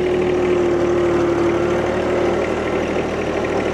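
A stock tractor engine idles steadily up close, a loud, constant low rumble with a faint steady hum running throughout.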